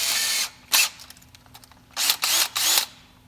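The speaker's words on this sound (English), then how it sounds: "I'll set these up on my drill" Short bursts of a power drill whirring up and stopping, several runs in a row, close and loud with brief quiet gaps between.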